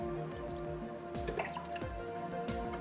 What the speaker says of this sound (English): Next add some fish stock in.